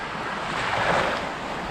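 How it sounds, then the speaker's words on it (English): Gulf of Mexico surf washes onto a beach near Sanibel Island, a steady broad wash of waves mixed with wind noise, with no voices. "So out behind me here, this is actually the Gulf of Mexico behind us."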